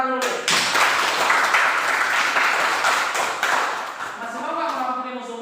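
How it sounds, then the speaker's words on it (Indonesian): A classroom audience at a junior high school in Lahomi, Indonesia, breaks into a burst of applause. The clapping is dense and steady for about five seconds, then fades as a voice returns at the end. "Luar biasa. Tepuk tangan dulu."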